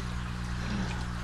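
Water mixed with Master Blend nutrient pouring steadily into a container for a hydroponic garden, a continuous close splashing stream heard alone.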